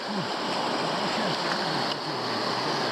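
Mountain river in Altai rushing over rocks, heard while standing knee-deep in the water: a loud, constant broadband roar of flowing water, close and unbroken, with a faint voice briefly under it.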